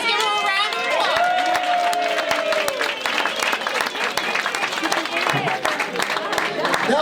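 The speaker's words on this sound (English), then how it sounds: "Let's give him a round of applause" A rally audience at a 4th District block captain boot camp applauds the host, broad crowd clapping and scattered chatter rolling on at steady loudness after a brief stretch of a voice at the start.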